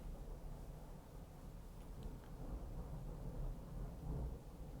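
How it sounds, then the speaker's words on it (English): Faint thunder from a storm in a Minecraft modpack game rolls along as a low, muffled rumble with some gentle swelling. It sits far off and quiet, with no voices. "we've been getting a lot of storms lately"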